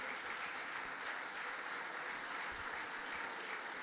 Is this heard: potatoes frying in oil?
no